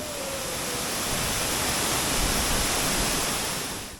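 Waterfall in a canyon near Ubud, Bali, roaring as a steady, dense wash of falling water that stays loud and unbroken throughout, with no voices.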